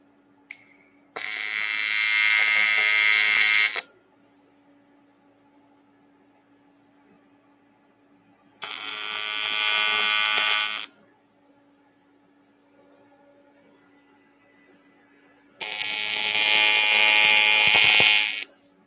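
Three bursts of tack welding on cast aluminum, each a steady loud crackling buzz lasting two to three seconds, separated by quiet gaps with a faint machine hum.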